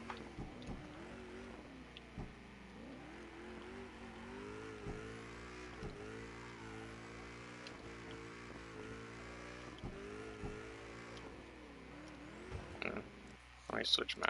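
A car in a PS4 driving game cruises and drifts, its engine droning steadily with rising and falling revs over a long stretch, with a person talking over it.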